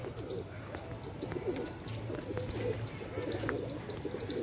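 Pigeons coo in a low, soft rhythmic murmur outdoors, repeating through the scene with faint wing flutters and light background noise.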